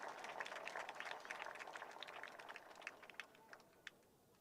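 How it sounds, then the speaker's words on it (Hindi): An audience applauds at the Future Of Karachi Conference. Thick, loud clapping thins out after a couple of seconds into a few scattered, separate claps. "उनके लिए भी जोरदार तालियां, थोड़ी और ज्यादा"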